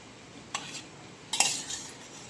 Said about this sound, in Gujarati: બસ હલાવી નાખો.